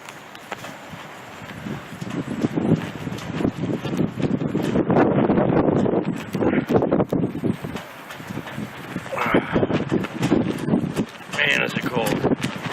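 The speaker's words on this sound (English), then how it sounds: "The wind is just out of control," Strong winter wind blows hard during a polar vortex storm in the US, a steady loud roar of gusts buffeting the microphone, with someone talking over it in places.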